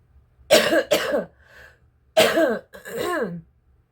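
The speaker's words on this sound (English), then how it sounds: "I've got a cough, but it's been pretty frequent lately" Four sharp, close coughs come in two pairs separated by a short pause, loud and harsh against an otherwise quiet background.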